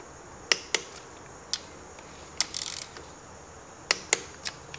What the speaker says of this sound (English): I'm just gonna use my driver and just kind of run them in so they're snug